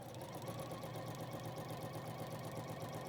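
A sewing machine runs steadily for about three seconds, stitching back over an existing line of stitches at a 1 centimetre seam line, its fast even whirring close and continuous with no talk.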